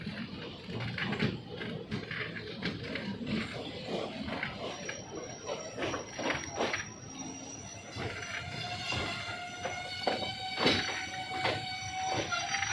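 The Circar Express rumbles at Godavari railway station with continuous rolling wheel noise and rhythmic clatter, and brief metallic squeals rise toward the end. The sound is moderately loud and steady.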